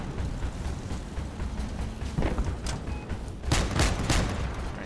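Missiles and heavy weapons fire in a Crossout vehicle combat battle, with a steady rumble of gunfire building into loud, rapid blasts near the end, without speech.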